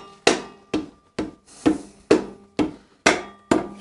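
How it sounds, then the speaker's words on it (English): Motorcycle wheel axle on a Harley Dyna being tapped into place, eight sharp metallic knocks at an even, unhurried pace, each ringing briefly, close and alone. "just kind of tap that axle into place"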